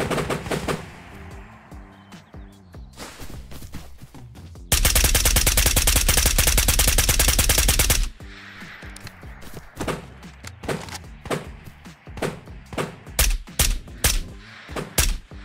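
Video game gunfire on an island raid: scattered single shots, then a sustained rapid automatic burst lasting a few seconds, followed by more irregular loud shots and thuds.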